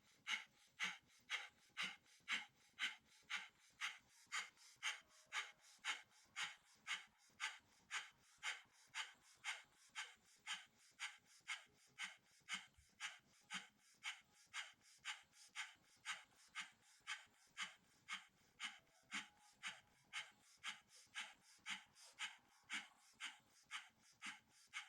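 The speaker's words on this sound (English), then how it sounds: "rapid belly breath." Rapid rhythmic nasal breathing from belly breaths during a Kundalini yoga exercise, dozens of quick even sniffing pulses at a steady pace, close and fairly quiet, with no talking.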